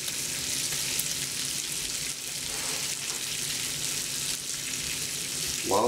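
Bacon fries in a pan with a constant, bright crackling sizzle heard up close, steady throughout with a small clink near the end.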